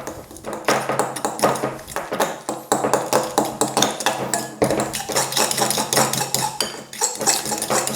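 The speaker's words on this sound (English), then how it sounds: "Grab me fork and again give it all a mix up." A fork mashes and stirs deviled egg filling of yolks in a bowl, giving quick repeated taps and scrapes against the dish in steady bursts, close and loud with no talk.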